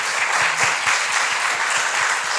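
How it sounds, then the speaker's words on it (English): An audience claps together after a talk, a dense, steady wash of applause from a sizeable crowd filling the room. "So if you'll join me in a round of applause."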